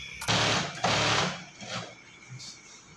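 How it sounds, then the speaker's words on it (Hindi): A sewing machine makes two short, loud bursts of stitching on a padded seat cover, then fades into quieter handling noises. "और ये साइड पर भी इसी प्रकार से सिलाई लगना है।"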